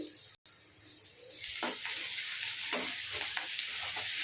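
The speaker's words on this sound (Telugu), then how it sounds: "ఉల్లిపాయలని పచ్చిమిర్చిని అయితే మంచిగా వేయించుకోండి." Sliced onions and green chillies frying in hot oil, a steady bright sizzle close by with occasional stirring scrapes after a brief dropout at the start.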